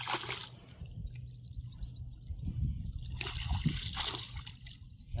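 Irrigation water runs into a coriander field through a makeshift sack-and-stick diversion, a steady close trickle and splash with brief louder gushes near the start and toward the end.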